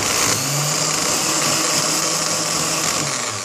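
A small 12 volt DC motor powered from a transformer with a capacitor fitted runs steadily with a loud, continuous high whine and buzz, close and unchanging for a few seconds, with no voice.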